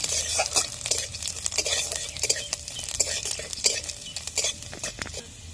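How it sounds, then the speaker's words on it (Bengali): Chopped garlic fries in hot oil in a pan for a Bengali dal kalmi dish. A utensil scrapes and clinks against the metal in quick, uneven strokes over a steady, close sizzle. "রসুনটা একটু ভাজা ভাজা করে নেব"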